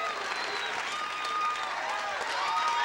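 Studio audience applauding and cheering on a 1985 Let's Make A Deal game show, a loud, steady wash of clapping and crowd noise that fills the whole moment without a break.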